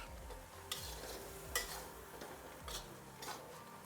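A spoon scrapes and knocks around a pot of couscous sauce, several distinct stirring strokes over a faint, quiet simmer.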